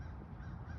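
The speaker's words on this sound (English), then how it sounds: "Right now there's some kind of bird chirping in the background." A crow-like bird caws outdoors in a park in the Greater Detroit Area, a short rough call or two set against steady low background rumble.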